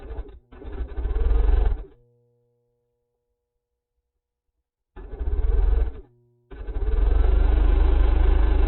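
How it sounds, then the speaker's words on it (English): Sewing machine stitching quilt pieces for scrappy pumpkin-block placemats, running in three loud bursts of steady motor hum separated by a long pause and a short one. "So I'm just going to sew one of these on each side."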